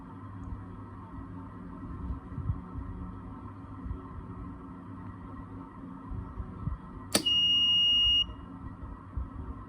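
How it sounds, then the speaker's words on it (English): A fingerprint-activated smart locker box sounds its electronic buzzer once, a single loud, steady tone lasting about a second, after a sharp click, over faint low background hum. "If the fingerprint is authentic, then the LED will turn into the green and the buzzer also will turn on."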